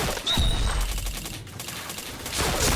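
Rapid gunfire crackles through a firefight in the shooter game Point Blank, dense bursts of shots with a sharp ricochet ping, loud and continuous with no pause.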